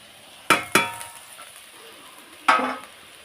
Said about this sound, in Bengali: তাড়াতাড়ি করে ভাজাটা ঘেটে নিই